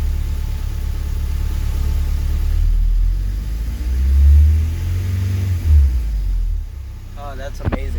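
Honda K24 engine in a CRX revs in a few swells of low rumbling throttle, then settles back toward a steady idle. Someone talks over it, and a short sharp click comes near the end.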